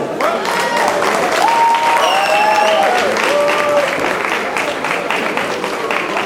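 Audience applause fills a wrestling gala hall, steady dense clapping from a large crowd with a few whistles and cheers rising above it, loud and continuous throughout.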